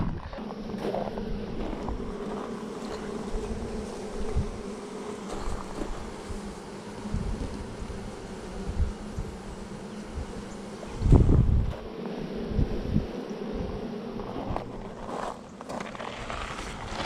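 A newly installed package of honey bees buzzes faintly around their hive in Central Texas, a low steady hum with occasional brief louder thumps and no talking.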